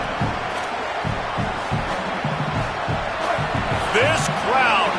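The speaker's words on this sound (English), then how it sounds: "This crowd, full throat, splitting the eardrums and letting them know it's going to be a long day." A packed stadium crowd in a college football video game roars in a dense, loud wash, with thumping hits and whistling rising tones near the end, and game commentary over it.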